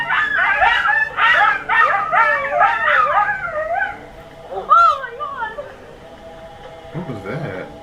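A coyote yips and howls in a rapid, rising and falling chorus of high wavering calls, loud and close, fading out before a few shorter yelps and a final burst.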